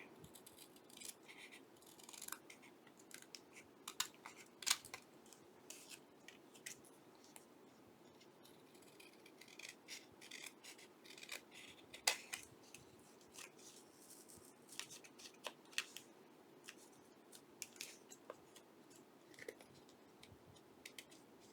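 Scissors trim paper for a feminine-style journal, producing quiet, sparse snips and crisp paper clicks scattered at irregular intervals over a very soft background.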